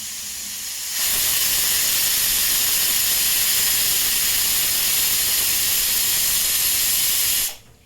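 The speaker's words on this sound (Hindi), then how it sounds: "एक विसिल हो चुका है।" A pressure cooker of tomato soup on a medium gas flame lets off a loud, continuous hissing whistle of steam that starts abruptly, holds steady for several seconds and then cuts off.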